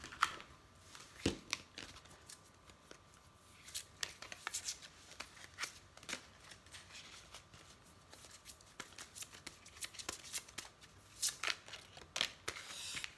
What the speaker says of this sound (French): Je vais peut-être vous tirer une carte du tarot psychique.